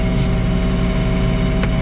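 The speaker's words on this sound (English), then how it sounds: "I'm gonna start that auger to clean it out." John Deere 3046R compact tractor running its snowblower auger, a steady loud engine drone with a constant mechanical hum, brief and continuous, close up.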